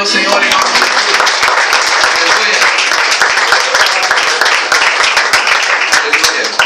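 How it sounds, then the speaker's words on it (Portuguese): A church congregation applauds together in a steady, dense wash of clapping that fills the room evenly and continues without a break. "Você pode aplaudir ao Senhor em nome de Jesus"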